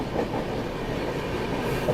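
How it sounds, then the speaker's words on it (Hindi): A train rolls steadily past close by, overtaking the Hazrat Nizamuddin–Bhusawal Gondwana Express, a continuous loud rumble with wheel clatter and no voices. "Overtaking Hazrat Nizamuddin Bhusawal Gondwana express."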